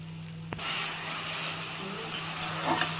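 Ground spices with chilli powder and salt frying in a pan for khichuri, a steady soft sizzle with occasional stirring scrapes and small clicks, close and continuous, with no talk.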